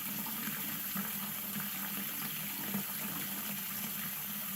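A tap runs in a steady, even stream during testing of a home's tankless water heater, a constant hiss of flowing water at moderate level with no breaks.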